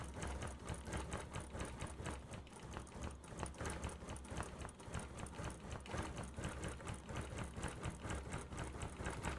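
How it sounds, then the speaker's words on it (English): A Gammill Statler longarm quilting machine stitches in the ditch on a quilt sham, giving a steady, rapid mechanical needle chatter with a low motor hum, close and continuous throughout. "this is how I do the stitch in the ditch"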